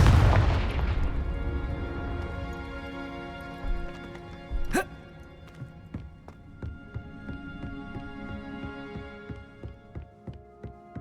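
A Confringo explosion spell in Hogwarts Legacy goes off as one loud opening boom that rings out and decays. Several softer thuds and cracks follow over the next ten seconds.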